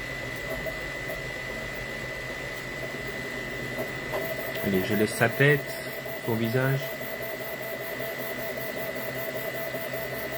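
A QQR Pro 3D printer running a HueForge print of an Avatar 2 picture, a steady mechanical hum with a constant high whine, while someone talks over it in the middle.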